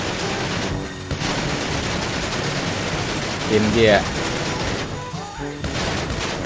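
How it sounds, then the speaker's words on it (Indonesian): Rapid bursts of GTA 5 gunfire crackle over steady background noise while a person talks. "Kita bakal tembak pakai senjata."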